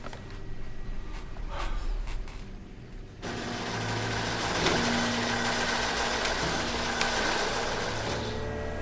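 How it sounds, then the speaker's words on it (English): Airliner engines run roughly on new fuel in a film scene: a steady, uneven drone that suddenly grows louder and fuller partway through, then holds as a continuous rumbling roar with no voices. "The engines are getting a taste of the new fuel and they don't like it."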